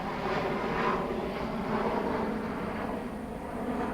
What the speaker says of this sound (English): Planes, planes, and more planes.